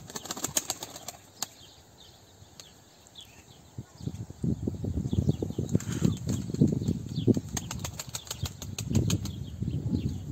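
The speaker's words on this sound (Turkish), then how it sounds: "şu anda kuşlarımızı açtım arkadaşlar" Pigeons burst into flight on release, a flurry of sharp wing claps at first, then a sustained fluttering rumble of many flapping wings nearby that continues steadily.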